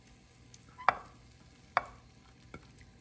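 Butter, melted cheese and shrimp are stirred in a pan with a few distinct spoon knocks against the metal, spaced roughly a second apart. Each knock lands loud and close over a quiet background.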